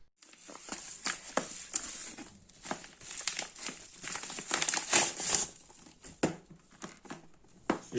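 Plastic and cardboard packaging of an Elegoo electronics starter kit crinkles and rustles steadily and close by, in dense, uneven crackles as it is handled and opened.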